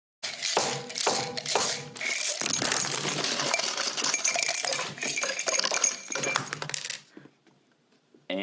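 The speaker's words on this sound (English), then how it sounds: "that was the sound of me destroying my typewriter with a hammer" A hammer smashes a typewriter with sticking keys: a rapid series of sharp metallic clanks and rattling jangles, close and dense, that thin out and stop near the end.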